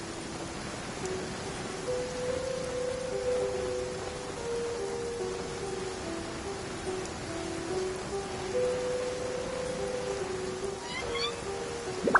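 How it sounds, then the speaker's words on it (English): Rain falling on a courtyard in the video game Genshin Impact: a steady, soft hiss of rainfall throughout, with a wavering tonal melody drifting over it. "I love listening to the rain from the courtyard"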